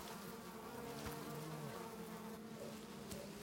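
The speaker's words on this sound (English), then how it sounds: "He leaves a shattered nest to be repaired by the bees." Dense, steady buzzing of many bees swarming close by around a shattered nest, a continuous droning hum with no voices.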